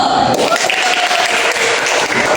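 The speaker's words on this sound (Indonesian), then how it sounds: "Coba kasih aplaus dulu." Brief burst of classroom applause from students, steady and fairly loud clapping filling the room for a couple of seconds.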